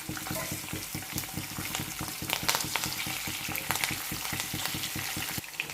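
Green chillies with mustard seeds and cumin frying in hot oil crackle and sizzle steadily up close, with a rhythmic run of spoon strokes stirring the pan throughout.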